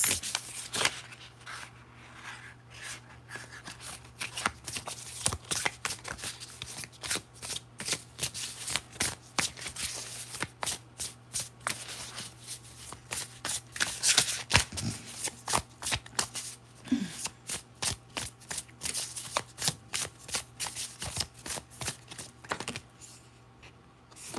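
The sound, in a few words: shuffling tarot cards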